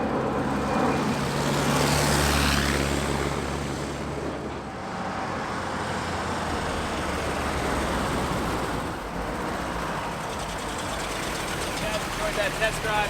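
A Willys CJ-2A post-WWII military jeep driving off-road after being taken out of four-wheel drive, its engine a steady rumbling drone with a swell early on, with talk over it.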